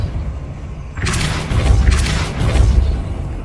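Depulso force spell striking in Hogwarts Legacy, a sudden loud thudding impact after a quiet moment, then a few rolling booms and crashes that fade slowly.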